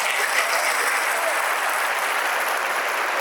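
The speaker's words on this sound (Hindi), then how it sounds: "इनके लिए भी तालियां।" An audience of students at a motivational seminar breaks into sustained, even applause, a thick wash of clapping with no pauses.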